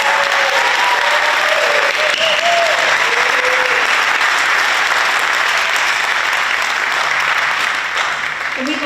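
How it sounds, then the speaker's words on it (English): An audience at the 2024 Heritage High School National Honor Society induction ceremony claps steadily for nearly nine seconds, a dense, even wash of applause with no break, fairly loud and filling the room. "Please join us in a round of applause for our newest National Honor Society member."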